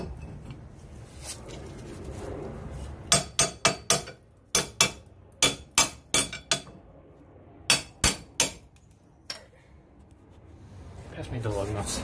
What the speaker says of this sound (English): Now we're going to attach our custom slide hammer.